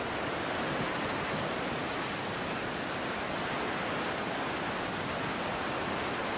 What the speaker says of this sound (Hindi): अभी इसके गेट्स खुले हुए हैं और बड़ी तेज़ गति से पानी यहाँ से प्रवाहित हो रहा है।